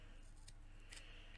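A few quiet, crisp snips of scissors cutting a decorative wrap for a pen, two sharp metallic cuts close to the mic with a soft slide of the blades between them.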